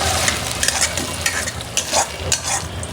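Chopped onion and fenugreek seeds sizzle in hot oil as a tempering for khichuri and get stirred. A steady close frying hiss runs throughout with small scraping accents.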